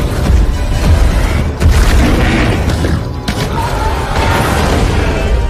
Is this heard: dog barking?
no